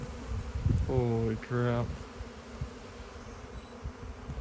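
Honeybees swarm around newly set-up beehives, a dense continuous buzz close by, with a brief spoken exclamation over it.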